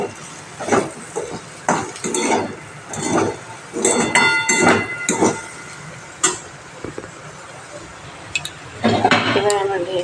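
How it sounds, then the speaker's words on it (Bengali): Boiled soybeans are stirred in a pan while Maggi chowmein is being cooked, making repeated scraping and clinking strokes of a utensil against the metal in an uneven rhythm, with a sizzling rise near the end. "একটু নেড়ে নেব।"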